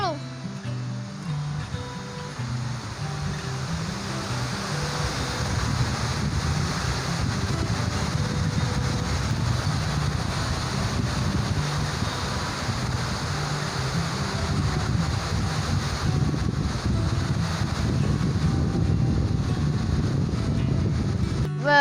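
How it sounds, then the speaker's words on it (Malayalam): Thooval waterfall in Idukki, Kerala, sends out a loud, continuous roar of rushing water. A voice talks over the steady wash of noise. "ഈ വെള്ളച്ചാട്ടത്തിൻ്റെ പേരാണ് തൂവൽ വെള്ളച്ചാട്ടം"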